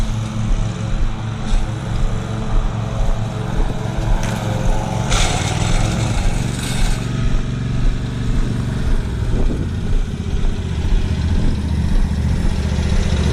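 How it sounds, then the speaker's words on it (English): A lawnmower and a strimmer drone together outdoors beside a fishing bank, a loud steady engine hum with the strimmer's higher whine rising and fading over it. "Lawnmower one side, strimmer the other."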